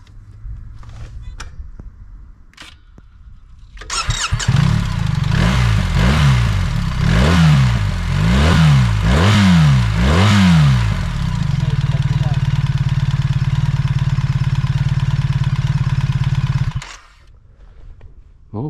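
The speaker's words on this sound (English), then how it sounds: "You can listen to the engine, I also will show you the exhaust." BMW R1300GS motorcycle with automatic transmission starts and idles, then revs repeatedly in a series of rising and falling blips before settling back to a steady, close idle that cuts off near the end.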